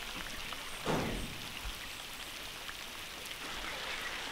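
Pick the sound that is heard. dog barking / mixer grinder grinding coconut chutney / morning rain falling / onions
morning rain falling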